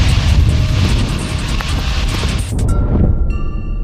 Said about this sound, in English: It's the one-of-a-kind Antonov 225.